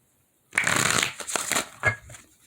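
A deck of tarot cards shuffled close up: a dense riffling burst after a short silence, then a few softer flutters and taps as the cards settle.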